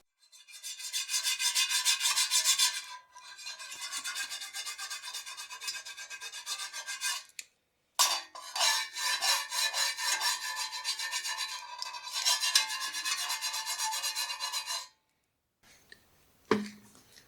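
Harsh rhythmic scraping of a metal spatula against a cast iron pan in several long bursts separated by short pauses, close and loud.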